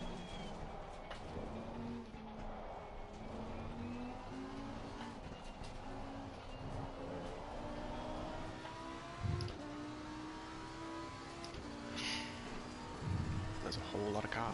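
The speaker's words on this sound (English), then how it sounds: "There's a whole lot of cars." Race cars circling Oulton Park in a racing video game, with a steady layered engine drone from a pack of several cars holding constant through the stretch, under a voice talking, plus a couple of brief louder bumps.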